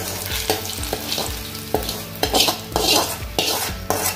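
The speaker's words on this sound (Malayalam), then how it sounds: "ഇനി അത് ആ വെളിച്ചെണ്ണയോട് കൂടെ തന്നെ നമ്മൾ തയ്യാറാക്കി വെച്ച തേങ്ങയിലേക്ക് ഒഴിച്ചു കൊടുക്കുക." Sautéed onions and hot coconut oil are poured over grated coconut, with sizzling and a run of clattering scrapes and knocks from a utensil against the pan and dish.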